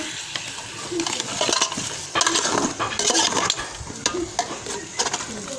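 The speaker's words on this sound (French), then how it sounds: "Je mélange bien le tout" Food being stirred and mixed in a pot in a home kitchen, with repeated scraping strokes and a light sizzle close by, steady without pauses.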